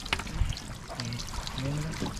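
Water pours and trickles from something set out to drip dry at an outdoor hut meal, a close, uneven splashing stream while people talk nearby.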